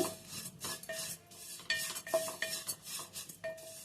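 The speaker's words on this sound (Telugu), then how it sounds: "ఇప్పుడైతే అటుకులు వేయించేసుకుందాం" Flattened rice (poha) is stirred and dry-roasted in a heated kadai, with a spoon scraping and clinking against the pan in irregular strokes, with light rasping between the metallic taps.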